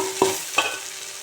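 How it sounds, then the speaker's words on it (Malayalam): A spatula scrapes and mashes cooked chana dal in hot ghee for kadala payasam, two sharp strokes over a faint sizzle, close and without speech. "അതുകൊണ്ട് ഞാനത് ചട്ടുക വെച്ചിട്ട് നന്നായിട്ട് ഉടക്കുകയാണ് ചെയ്യുന്നത്."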